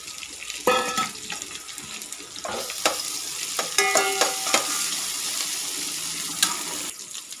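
Onions frying in a pan for a Sunday biryani, a continuous close sizzle broken by clinking and scraping of a spatula stirring through, without speech.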